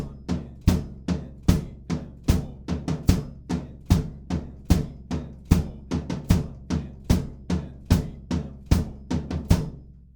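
Drum kit groove with a tom pattern rolling over steady quarter-note hi-hat and kick: evenly spaced punchy hits, close and loud, played alone without talk.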